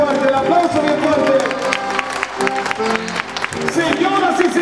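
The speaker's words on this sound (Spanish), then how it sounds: "El aplauso bien fuerte, el aplauso bien fuerte." Live concert crowd applauding loudly and steadily throughout, with a band's music and a voice carrying over the clapping.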